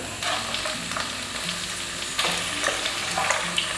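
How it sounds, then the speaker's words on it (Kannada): Prawns frying in a pan in a home kitchen, a steady close sizzle with light stirring scrapes and a brief louder burst partway through. "ಸೊ ಇವಾಗ ಇದಕ್ಕೆ ನಾನು ಪ್ರಾನ್ಸ್ ಹಾಕೋತಿದ್ದೀನಿ."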